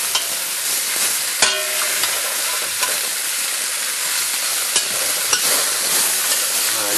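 Osso bucco pieces sizzle steadily in a hot casserole pot, a dense, close frying hiss broken by a few sharp pops and crackles, with no voices.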